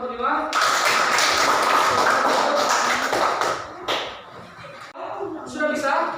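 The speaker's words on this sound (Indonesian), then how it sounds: "Tepuk tangan kelompok 5." Classroom applause for student group 5 during a school presentation session: dense, continuous clapping from many hands fills several seconds, then thins into scattered claps, with a teacher's voice heard near the end.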